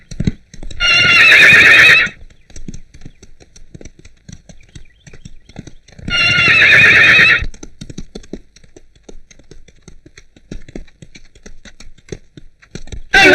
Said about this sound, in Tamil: அது முரட்டு குதிரை, யாருக்கு அடங்க மாட்டேங்குது